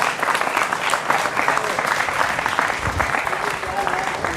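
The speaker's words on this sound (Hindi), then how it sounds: "जोरदार तालियों के साथ उनका अभिनंदन है" A television studio audience at a political talk show gives loud, continuous applause to welcome an arriving guest, a dense steady clapping that holds throughout.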